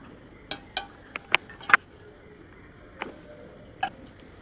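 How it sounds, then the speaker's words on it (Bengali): Boiled banana flower strained in a kitchen, a handful of sharp metallic clinks and taps of utensils against a pot, scattered and close with quiet gaps between. "মোচাটা ছেঁকে নিচ্ছি"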